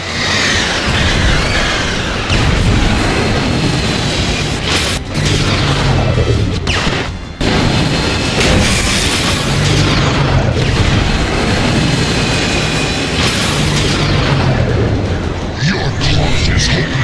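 Missiles explode in the video game Transformers: War for Cybertron. Heavy booms and crashes land over a loud, continuous roar of combat, with a sharp break midway, and game voices are heard.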